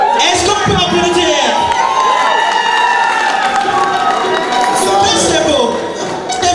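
Wedding guests at an evening reception break into loud cheering, whoops and clapping, a lively crowd roar with voices mixed throughout.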